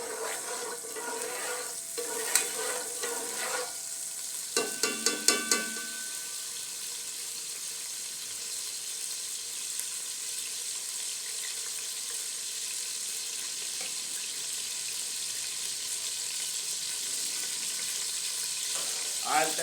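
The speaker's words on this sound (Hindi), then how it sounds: "ऑयल को गर्म होने दें।" Oil heats in a cooking pot for beef and potato keema, a faint, steady low sizzle with a few brief utensil clatters early on and no talking.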